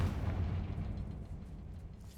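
A Confringo blasting-spell explosion in Hogwarts Legacy: a low, rumbling boom that opens loud and fades off over a couple of seconds.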